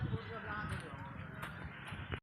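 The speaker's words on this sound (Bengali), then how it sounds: "লাইন হয়ে গরুগুলো যাচ্ছে দেখেন" Cattle walking in a line along a village road near the India–Bangladesh border give a soft, irregular clopping of hooves, with a voice talking over them before the sound cuts off abruptly.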